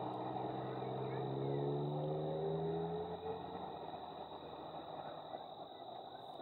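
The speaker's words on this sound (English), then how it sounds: "Sorry for the car noise." Car passing outdoors during a thunderstorm, a steady whirring drone that rises then fades away, fairly faint.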